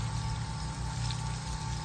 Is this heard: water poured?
yes